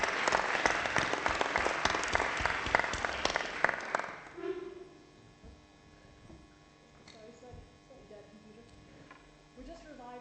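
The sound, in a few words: audience applause for the speakers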